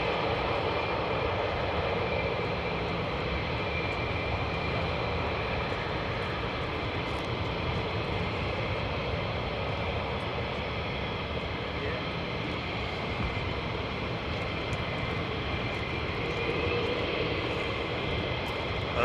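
A Hercules military transport aircraft at RAF Lakenheath sends out a steady, moderately distant engine drone that holds throughout, with voices talking over it.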